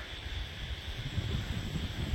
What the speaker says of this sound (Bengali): বাতাসের আওয়াজ শুনতে পাচ্ছেন? শো শো শো শো করে আওয়াজ হচ্ছে।